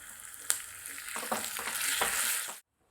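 Red chillies, green chillies and curry leaves frying in hot oil for a mango pulissery: a close, steady sizzle with a few stirring scrapes, cutting off abruptly at the end.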